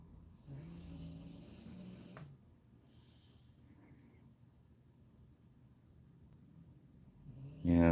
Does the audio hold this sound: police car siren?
no